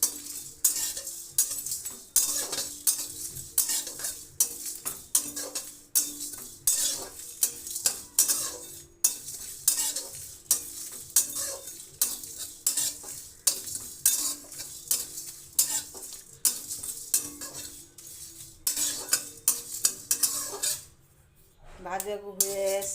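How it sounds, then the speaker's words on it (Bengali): Five-spice seeds, chili, two cardamom pods and coriander dry-frying for a pickle, with a rapid, regular clatter of a metal spoon stirring and scraping the pan over a soft sizzle, nearly continuous for about twenty seconds before a brief pause. "এবার এতে দিয়ে দেব 5 ফোড়ন, সামান্য মরিচ, 2টো এলাচ ও সামান্য ধনে দিয়ে একসাথে ভেজে গুঁড়ো করে নেব"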